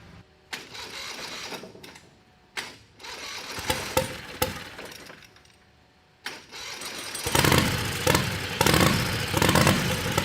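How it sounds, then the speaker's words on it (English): Turbocharged 670 V-twin motorcycle engine cranking in short whirring bursts, then catching and running loud and rough at close range. "So let's fire this thing up."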